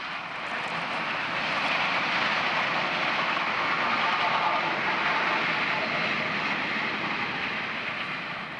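Steam locomotive 03 001 of the Reichsbahn running at top speed on its way toward Dresden, a steady, loud roaring rush that swells slightly midway and holds without a break for about nine seconds, with no voices.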